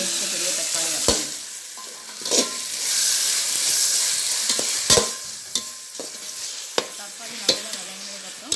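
Large cut tomatoes sautéing in a pan for beef biryani, with a steady broadband sizzle and repeated scraping stirs and sharp utensil knocks against the pan, close and alone without talk.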